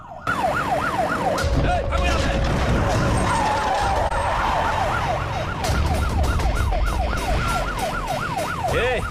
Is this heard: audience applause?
no